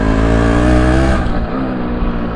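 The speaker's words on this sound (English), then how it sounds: "one thing I want to really show you guys is the gear 1 pull, because obviously being a two-stroke, it's got a lot of power on the bottom end" A two-stroke classic car pulls hard in first gear, its loud, close, buzzing engine note rising steadily as it accelerates, with no talk over it.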